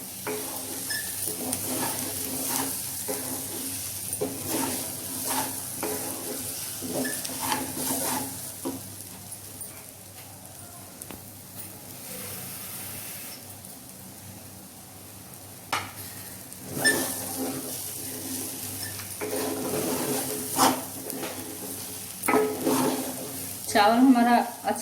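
Rice roasts to golden brown for khichdi in a large kadhai. A soft sizzle runs under repeated scraping stirs that come in uneven bursts, louder near the end, with no talking.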